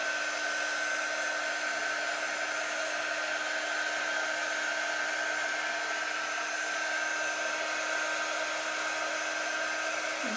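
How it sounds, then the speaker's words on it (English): A hair dryer blows steadily on a surface to dry it until tacky, with a constant close, even whoosh and a faint high whine, with no talking. "I'm just going to dry it until it's tacky and doesn't stick to my finger."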